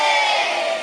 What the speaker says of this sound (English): A big cheer for Miss McAvoy